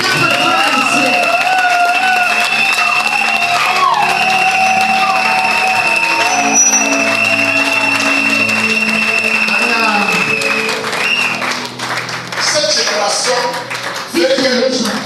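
Church congregation claps for the Lord, a loose ongoing patter of hands blended with sustained singing and a speaking voice, the whole room loud and busy.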